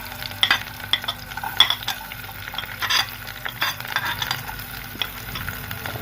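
Garlic and a small onion frying in a spoon of ghee for chicken pasta, with irregular clinks and scrapes of a spoon stirring in the pan over a soft sizzle; no talk.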